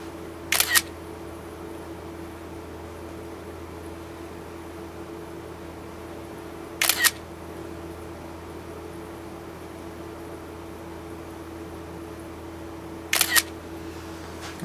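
An iPad photo booth camera fires three separate shutter clicks, each a short crisp double snap spaced about six seconds apart, over a faint steady hum in a quiet room, with no voices.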